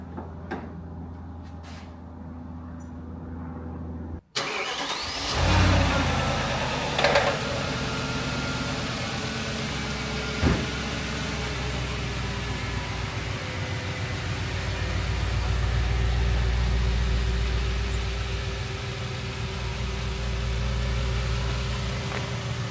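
An Audi S4 engine cranks and fires after a quiet stretch, then settles into a steady, close rumbling idle that swells slightly at moments, with a couple of brief knocks and no talk.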